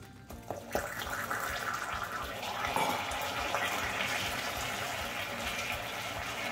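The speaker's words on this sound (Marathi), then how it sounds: "आता यामध्ये आपण 3-4 चमचे पाणी घालणार आहोत." Water goes into hot caramelized sugar for a caramel rice pudding, a loud sudden hiss and bubbling rush that settles into a steady seething.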